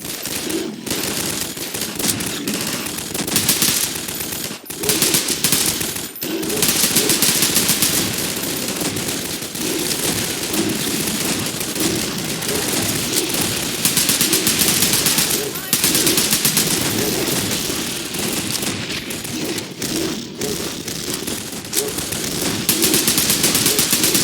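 Rapid automatic gunfire in the Garry's Mod video game, dense repeated bursts running almost continuously at steady loudness, with brief pauses between volleys.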